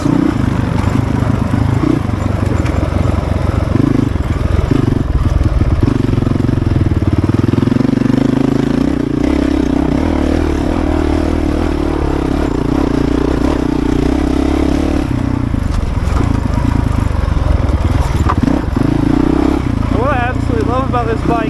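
Shaved-down Honda CRF450RL enduro motorcycle engine running steadily and loud for the whole stretch, a heavy low-pitched drone with rough clatter and scraping, load and revs shifting slightly, while someone talks over it.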